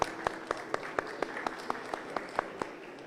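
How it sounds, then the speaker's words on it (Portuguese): An audience applauds to welcome a speaker onto the stage at a corporate security conference, a steady wash of clapping with regular sharper claps standing out, moderately loud and without talk. "sob o nosso aplauso"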